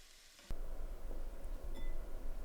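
Prawns dropped into a hot pan of oil burst into a steady, close sizzle that starts abruptly and keeps hissing evenly.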